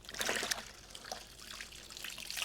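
Soapy water from a rag trickles and drips onto a 1972 Honda CB350 Four motorcycle, a close, wet dribbling with brief splashy bursts that fade and return, no voices.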